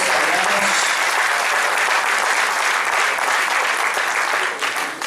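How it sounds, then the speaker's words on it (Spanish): Sustained audience applause at a conference, dense and steady throughout, welcoming Enrique Dussel on his arrival, tapering slightly at the very end. "Queremos dar un aplauso a Enrique Dussel"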